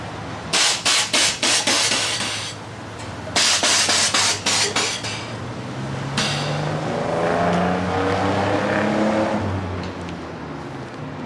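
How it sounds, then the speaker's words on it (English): Air suspension airbags on a pickup truck being activated: a burst of rapid sharp pneumatic clicks and hisses, a pause, then a second burst, followed by a longer rising rush of air, loud and close. "so we just hit the airbags"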